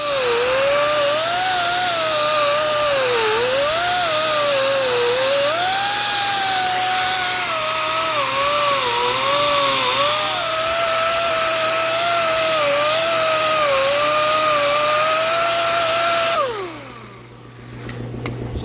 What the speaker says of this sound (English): So I'm going to grind this section back here now